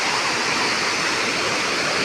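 Loud, steady rushing roar of the flooded Beas river in Himachal after a cloudburst, a dense, unbroken wash of churning floodwater with no pauses.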